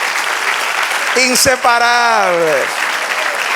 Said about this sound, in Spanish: Denle otro aplauso.